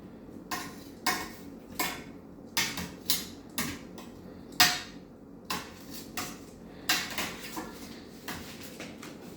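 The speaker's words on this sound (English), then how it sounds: "So I'm going to quickly turn that over, flip each one over individually." Grilled chicken pieces are flipped one by one in a SaladMaster pan, giving a string of sharp metallic clinks and taps from the utensil against the pan at an uneven pace, close and fairly clear.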